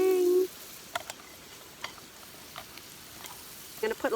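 Shrimp fry in butter in a pan over a backcountry camp stove, a soft sizzle underneath with a few scattered taps and pops near the start and end.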